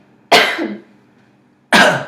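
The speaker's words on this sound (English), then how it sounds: "now can you cough for me?" Two sharp, close coughs about a second and a half apart, each a harsh burst that quickly fades, with silence between.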